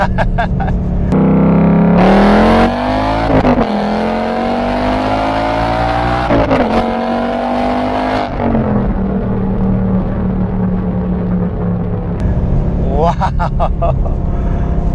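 A 2023 Ford Mustang Mach 1 V8 accelerates at full throttle, its engine climbing loudly through the revs with abrupt shifts and drops between gears, then surging again near the end. Voices can be heard alongside it.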